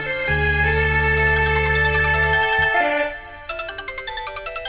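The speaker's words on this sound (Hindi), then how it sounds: "कितना भी फोन बजे बजने दो, उठाना मत।" A mobile phone rings loudly with an electronic melodic ringtone: sustained tones give way to a run of quick, repeated chiming pulses, with no voices over it.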